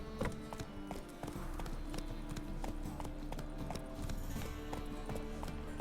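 Horse hooves clip-clop at a steady trotting rhythm in The Witcher 3, close and clear over a low ambient game background, with occasional faint voice.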